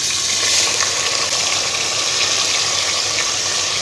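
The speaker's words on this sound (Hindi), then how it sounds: "प्याज को गोल्डन ब्राउन कलर होने तक फ्राई करेंगे" Onion paste fries in hot oil, sizzling and crackling in a steady, bright hiss, continuous and close, with no voices.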